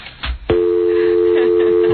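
A telephone dial tone comes on abruptly after a brief clatter of handling the receiver, then holds steady and loud to the end.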